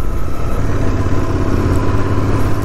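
A Royal Enfield Interceptor 650 motorcycle engine runs loud and close with a steady low rumble and slight clatter, alone with no talk.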